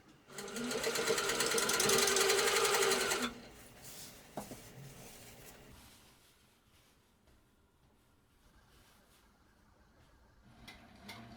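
A sit-down sewing machine quilting a large quilt runs in a fast, loud stitching burst for about three seconds, then stops, followed by faint handling and rustling of fabric.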